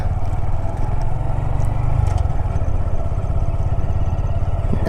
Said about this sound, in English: clutch in, gear down, and let go. Smoothly.